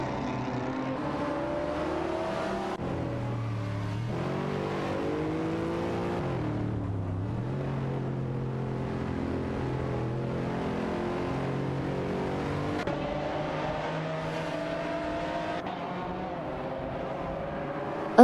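Race car engines in a racing video game, with Lamborghini Murcielagos among the field, hold a steady, layered drone whose pitch slides down and back up during shifts and corners, continuous and moderately loud with no talk.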